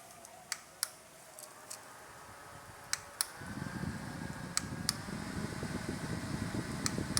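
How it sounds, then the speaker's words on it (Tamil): A small USB fan powered by a solar-charged battery at a farm house whirs into a steady, soft airy hum partway through, with a few sharp clicks before and during it. "யூஎஸ்பி ஃபேன் தான்."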